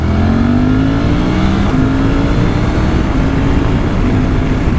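A Suzuki V-Strom 800DE motorcycle engine holds around 5,000 RPM while riding at highway speed. The engine drone is loud and steady, with a slightly wavering pitch and heavy wind rush throughout.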